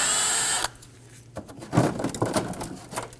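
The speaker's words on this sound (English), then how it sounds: "Using a Phillips head bit, remove the screw." A power drill fitted with a Phillips bit whirs in one brief burst to back out a fender liner screw on a 2008-2015 Scion xB, followed by a few quiet handling clicks.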